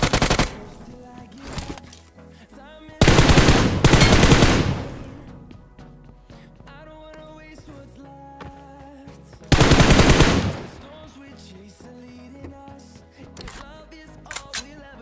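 Bursts of automatic gunfire from a shooter video game, two long loud volleys and a shorter one, separated by quieter in-game ambience.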